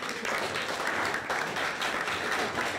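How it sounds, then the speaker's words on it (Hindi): Group of students clapping together at a commando training academy, a steady dense patter of many hands filling the whole stretch at moderate loudness, no speech over it. "ताली दो इसके लिए।"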